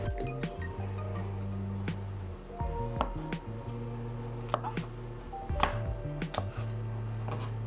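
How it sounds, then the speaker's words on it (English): A knife cutting mushrooms into small pieces on a board: a run of quick, light taps in an irregular rhythm, close but quiet, with faint background hum and no speech. "we are just going to cut these mushrooms into this kind of small pieces"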